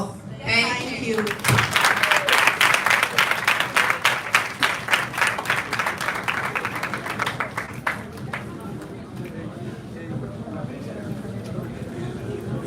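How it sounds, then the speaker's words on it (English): Enthusiastic applause from a crowd, dense clapping that builds quickly, holds strong for several seconds, then thins out into scattered claps. "Now we clap for the boss once more, please."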